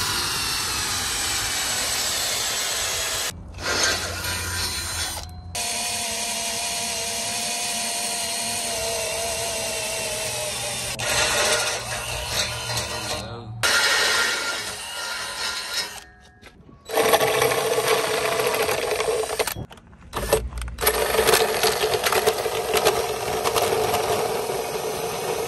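A power drill whines steadily at high speed drilling holes for a kayak trailer, stopping briefly a few times before spinning up again, close and loud.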